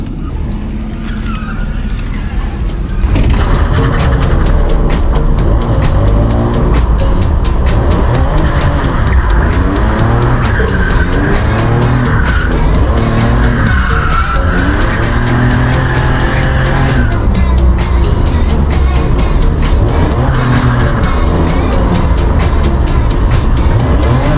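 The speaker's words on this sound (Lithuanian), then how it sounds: "Tęsiam driftą." A BMW drifts, its engine revving hard in repeated rising and falling surges with tire squeal and skidding, loud and close after a quieter start, with no talk over it.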